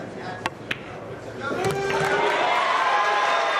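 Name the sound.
crowd cheering at Mosconi Cup pool match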